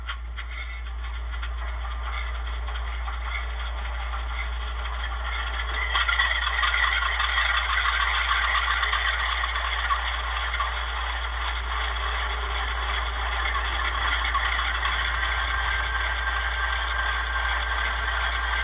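A Rapido Alco M420 model locomotive sound decoder gives out a steady diesel engine rumble with a low hum and some mechanical clatter. It grows slightly louder partway through and keeps a continuous idle throughout.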